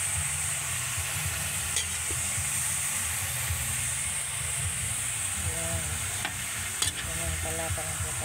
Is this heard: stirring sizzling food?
yes